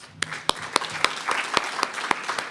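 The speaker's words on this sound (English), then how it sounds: "join me in giving those folks a big round of applause" Applause from family and friends at a dental assisting pinning ceremony: a soft bed of clapping with a few sharp, loud individual claps standing out at irregular intervals.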